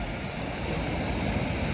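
Ocean surf at Manly beach, Sydney, a constant rushing wash of waves mixed with wind buffeting the microphone, steady and fairly loud over a short stretch.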